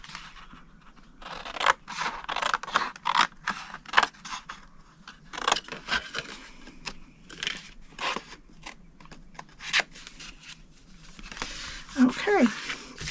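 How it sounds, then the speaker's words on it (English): Scissors snip through scored cardstock in short crisp bursts, several cuts in a row close to the mic, alternating with someone talking over the crafting. "Now go to the next score line, cut it to the first score line, and we're going to take all 3 pieces off."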